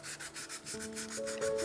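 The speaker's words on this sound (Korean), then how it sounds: "사포질을 한번 해줄게요" Sandpaper rubbed over dried putty on a 3D-pen model, steady rapid back-and-forth scratching strokes, close and alone.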